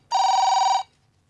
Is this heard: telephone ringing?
yes